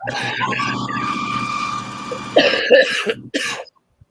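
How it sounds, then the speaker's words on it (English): A person coughs several times in rough bursts, close and loud, with throat-clearing between them, then a brief pause and a final cough. "It's just the coughing."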